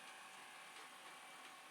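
A disk drive, likely a Commodore 4040 unit, spins with a steady faint whir and hiss while its head moves with soft ratcheting clicks, heard alone.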